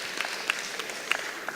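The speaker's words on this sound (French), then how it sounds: "Je pense qu'on peut applaudir Aurélien et le projet." An audience at a forum event applauds, moderate dense clapping heard from some distance, even and sustained through the short stretch, with a few sharper individual claps standing out.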